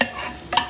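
Ginger frying in hot mustard oil while a spoon stirs it in a pan, a brief sizzle with a couple of quick scraping strokes close by.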